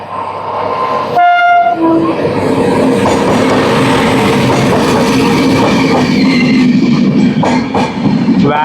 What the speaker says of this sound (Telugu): చర్లపల్లి విశాఖపట్నం స్పెషల్ ట్రైన్ ఇది